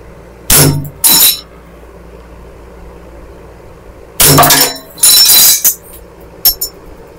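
A Glock 17 Gen 5 gas blowback airsoft pistol firing: sharp, loud snapping reports, two quick shots, then a pause and a few more in a ragged group, with a quiet background hum between them.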